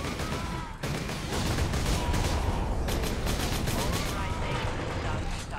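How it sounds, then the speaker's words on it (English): Heavy sustained gunfire with exploding rounds rattles continuously in the action game Warhammer 40,000: Space Marine, a loud dense barrage of rapid shots with little pause. "Everyone told me these are exploding rounds."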